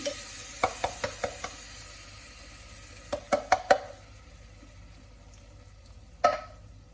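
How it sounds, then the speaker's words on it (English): Lentils stirred in a hot pan: a low background sizzle broken by clusters of sharp spoon taps and scrapes against the pan, in quick bursts, then one final knock. "Give it a little stir."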